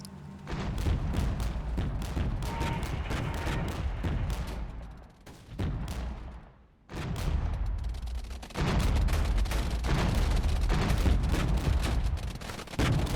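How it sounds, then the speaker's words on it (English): Gunfire in the Cold War strategy game Regiments, a dense, continuous roar of massed rifle and machine-gun fire with booming impacts, loud and steady with a brief lull midway. "we're then going to open fire on all of these"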